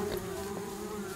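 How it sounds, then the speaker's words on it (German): A bee in the video game Adventure Craft gives a steady, close insect buzz throughout, with a sharper, louder burst at the very end. "Hier ist noch eine Biene."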